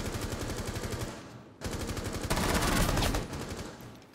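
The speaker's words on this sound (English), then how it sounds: "Where's that other guy shooting from?" Rapid automatic gunfire in Rainbow Six Siege, loud, sustained bursts with a short break partway through, then more intense firing.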